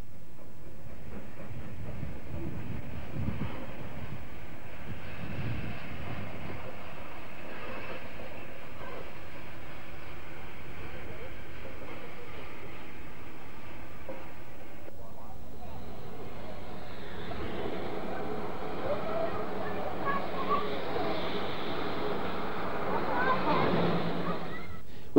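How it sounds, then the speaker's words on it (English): A humble goods train on the Bluebell Railway rumbles steadily along, a low continuous rolling noise that grows louder and broader in the second half, with faint voices in the background. "humble goods train reminds us of the less glamorous side of the railway business"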